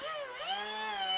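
Bosch GWG 12V-50 S cordless straight grinder running freely, a steady high-pitched motor whine with a slight pitch dip then rise, fairly faint and close, with no talk.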